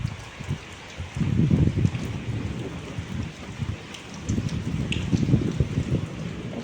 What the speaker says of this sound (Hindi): और देखिए बारिश होने लगी।